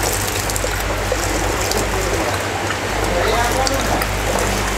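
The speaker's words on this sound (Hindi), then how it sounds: "अभी हम हॉट वाटर है इसके अंदर वॉशिंग के लिए डालेंगे, दोनों बाउल में डालेंगे थोड़ा थोड़ा।" Hot water pours steadily into the bowls of a softy ice cream machine, a continuous rushing splash under a voice.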